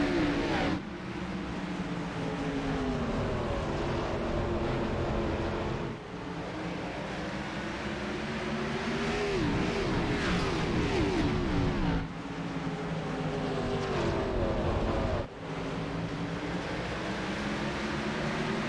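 Stock cars roar off at the start of a race at North Wilkesboro, a dense wall of engine noise rising and falling as the pack accelerates, loud and continuous throughout.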